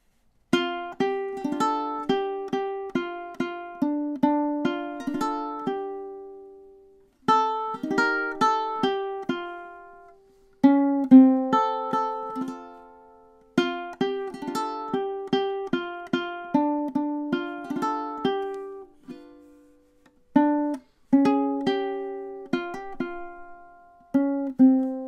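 A ukulele strums and picks through the chorus of a song in clear rhythmic bursts, with short pauses between phrases, played close and alone without singing or talk.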